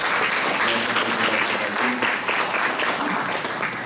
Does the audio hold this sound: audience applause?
yes